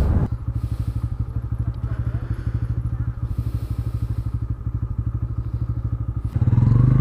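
Motorcycle idling steadily with a rapid, even engine pulse, close and loud, then revving up sharply at the end as a ride begins on a sunny road near the Teesta Barrage.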